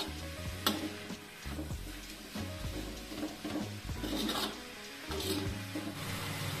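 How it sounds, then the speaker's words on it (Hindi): Radish stir-fries in a pan for mooli bhaji, a soft sizzle under repeated scraping and rubbing strokes of a spatula, with a few sharp knocks against the pan, fairly quiet, no speech. "ऐसे ही हमें मूली को हल्का सा सेक लगाकर भून लेना है।"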